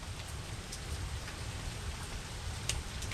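Steady rain falling outdoors, a dense even hiss of drops hitting surfaces with occasional closer splashes, continuous and moderately soft.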